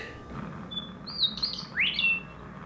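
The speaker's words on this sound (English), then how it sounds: "This is a more traditional bird sound, western meadowlark." A western meadowlark sings outdoors, a few clear whistled notes and a bright sliding phrase, fairly close and alone over quiet background hiss.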